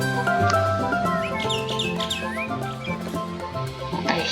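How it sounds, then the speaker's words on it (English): Birds in the soundtrack of the Cattails video game chirp and tweet in quick bright calls over a steady layered background music bed. "I hear the birds"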